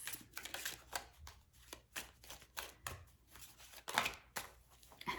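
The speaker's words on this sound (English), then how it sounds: "I'm going to draw 2 more cards." Tarot cards drawn and shuffled from a deck, a quick run of soft close flicks and riffling slaps with short pauses between, quiet and with no talking.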